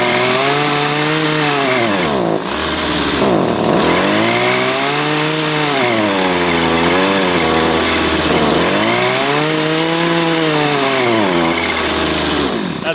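Small two-stroke string trimmer or blower engine running on full choke, loud and close, its pitch surging up and down in uneven waves and briefly dipping as it struggles to stay running.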